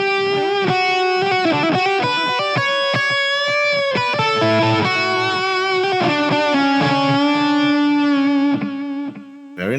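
Distorted electric guitar phrases through a ToneX One rig ring out with a quarter-note delay, each note echoing in steady repeats under a wash of plate reverb, loud and continuous.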